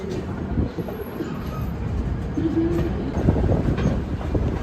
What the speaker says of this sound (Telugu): ఇది మన ఎదురు ట్రైన్ ఉంది కదా, ఈ ట్రైన్ ఏమో కాచిగూడ యలహంక ఎక్స్ప్రెస్ అనమాట